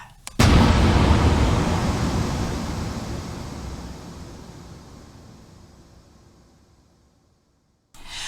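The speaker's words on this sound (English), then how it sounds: "The explosion, it has been decided, came from gas canisters that had been stored in a warehouse." Stored gas canisters explode in a warehouse with a sudden loud blast, followed by a long rumbling roar that slowly fades to near silence over several seconds before a new sound cuts in.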